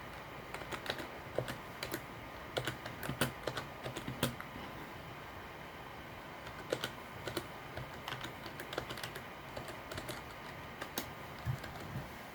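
Computer keyboard typing during a Fisch game session, with a steady run of close, crisp key clicks in an irregular rhythm and no talking.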